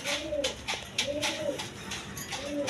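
A breeding pair of Racer pigeons, male and female, coo close by in repeated rising-and-falling phrases at roughly half-second intervals, with someone talking over them.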